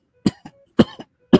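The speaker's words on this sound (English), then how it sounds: "It's a cough." A person coughs in three quick, harsh bursts close to the microphone, each followed by a smaller rasping catch, with no talking.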